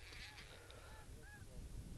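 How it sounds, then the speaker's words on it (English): Snow geese and Canada geese honk overhead beside the Sutton River, several faint, scattered calls over soft running water and outdoor ambience. "Snow geese and Canada geese flying overhead."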